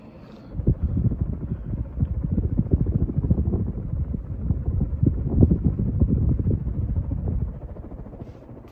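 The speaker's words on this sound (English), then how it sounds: "Fan's definitely hauling. Probably doing 200 plus RPMs, probably like 230" A Panasonic Excalibur ceiling fan spins at high speed, making a close, rapid rhythmic whooshing buffet like wind across the microphone, rising after a quiet start and easing off near the end.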